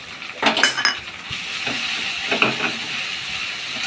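Chicken being sautéed with ginger paste in a pan for chicken kasha: low sizzling frying with a few sharp utensil scrapes and clinks against the pan, close and moderately loud, no voices.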